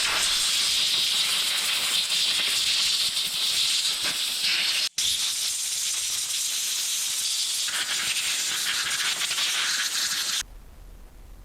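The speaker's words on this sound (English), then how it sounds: "I like to actually take an air compressor and blow all my parts off" Air compressor nozzle blowing off Beretta A300 Outlander shotgun parts during cleaning: a loud, continuous hiss lasting about ten seconds with one brief break midway, then cutting off abruptly.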